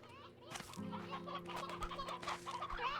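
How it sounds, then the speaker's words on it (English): Roosters in the farming video game Ranch Simulator, several clucks and short calls over a steady hum, with faint talk underneath. "There's a lot of roosters in there."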